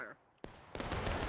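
A musket volley in War of Rights, a Civil War battle game, erupts on command as a sudden rolling crackle of many shots merging into a sustained roar after a brief sharp report.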